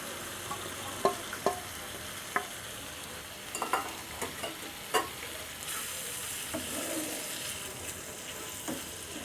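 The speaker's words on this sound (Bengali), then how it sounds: "আবার একটু ভালো করে কষিয়ে নেব" A curry with blended tomato juice being stirred and sautéed in a pan, with a soft sizzle under scattered scraping clicks from the spoon, fairly quiet and close.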